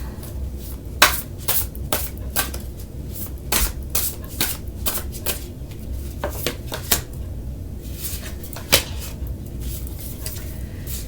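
Tarot cards are shuffled close up in irregular bursts, a series of crisp riffling slaps and soft taps scattered unevenly over a quiet background with no talking.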